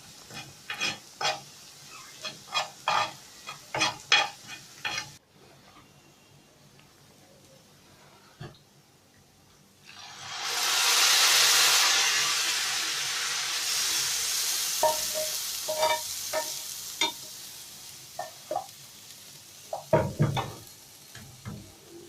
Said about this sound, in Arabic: سمعتوا الطشة بقى؟ صوتها تحفة